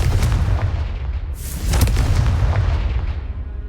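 A Confringo fire-blast spell in the game Hogwarts Legacy bursts with loud, deep booms: a rumbling explosion with a sharp crack in the middle, then a rolling low roar as it fades.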